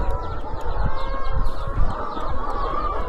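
Laying hens on a small farm cluck and murmur continuously over a steady, busy background din, with no one talking.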